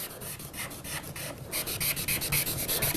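Charcoal being rubbed down on paper for a drawing, close rhythmic scrubbing strokes that grow louder and faster halfway through, with no talking.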